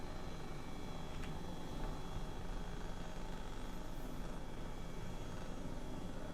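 Simulated helicopter in Microsoft Flight Simulator, a steady droning engine and rotor hum that stays even throughout, with no voices.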